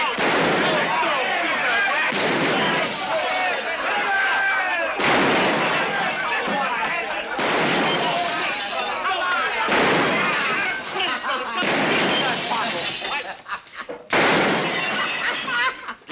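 Gunfire from a drunk man in a 1953 western film, a series of loud, sharp shots repeating at irregular intervals across the scene, close and harsh.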